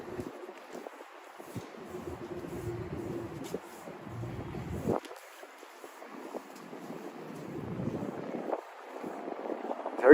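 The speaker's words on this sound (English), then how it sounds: "Very windy night in Manhattan." Gusty night wind in Manhattan rumbles and buffets the microphone, rising and falling in strength with no one speaking.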